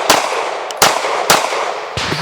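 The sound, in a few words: pistol shots fired at steel targets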